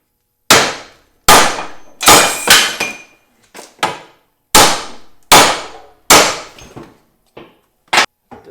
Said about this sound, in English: I'm going to take a couple whacks at this thing and see if I can't break it free this way now